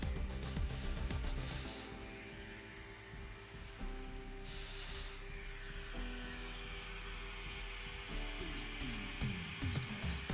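A cat grooming vacuum draws loose hair into its collection compartment, giving a steady tonal motor hum and airflow whoosh with slight shifts in pitch, close and continuous, no talk.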